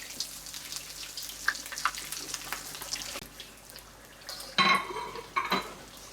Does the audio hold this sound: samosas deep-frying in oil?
yes